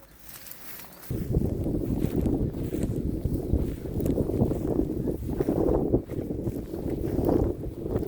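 Strong gusting autumn wind buffets the microphone in low, rumbling surges after a brief quieter opening, rising and falling throughout.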